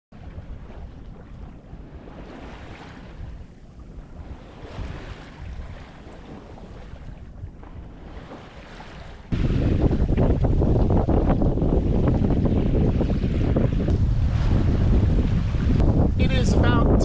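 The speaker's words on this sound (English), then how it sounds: "Hopefully now this wind is already filling in." Wind blows hard past a sailboat at sea heading toward Marathon in the Florida Keys in the evening, a steady rushing roar that grows sharply louder midway and buffets the microphone.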